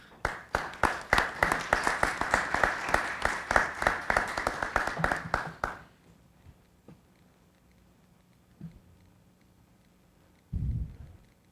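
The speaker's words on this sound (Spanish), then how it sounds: "Por favor, un gran aplauso." An audience at a family mediation forum claps loudly for about six seconds in dense, steady applause, which then stops and leaves a quiet room with a brief low thump near the end.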